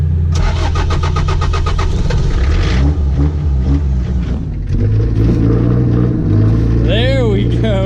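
A Cummins turbo diesel engine swapped into a vehicle is jump-started: the starter cranks in a rapid rhythmic chatter, then the engine catches and settles into a loud, close, rumbling idle.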